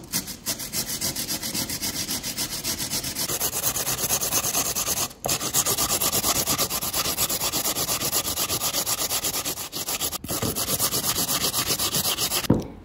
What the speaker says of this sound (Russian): Картофель натираем на самой мелкой терке.